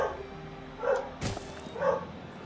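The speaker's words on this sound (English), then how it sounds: "My dog's going crazy again." A dog barks twice at a distance, quiet and spaced apart, with a short sharp knock between the barks. The barks sit over the low steady background of a city-building strategy game.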